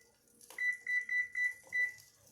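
A kitchen timer gives five short, clear electronic beeps in an uneven row as it is set, close and fairly loud in a quiet kitchen, with faint handling noise around them.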